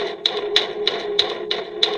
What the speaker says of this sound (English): The banging then moved from the lockers to our classroom door.